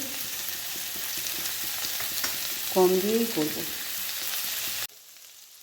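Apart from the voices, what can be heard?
potatoes and onions frying in a pan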